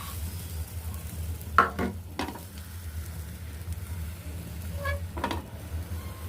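Egg omelette batter poured in a round into a heated pan on the stove, giving a soft low sizzle with a few brief stirring and scraping clatters, close by and fairly quiet.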